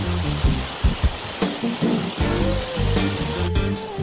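Water rushes loudly and steadily over a waterfall on a hike in western New York. The noise is close and continuous, with a few louder splashing surges and no talk.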